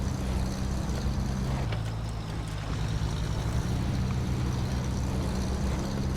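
A Hummer truck's engine runs in the off-road driving game SnowRunner, a steady, loud low drone that continues unbroken from start to finish with no talking.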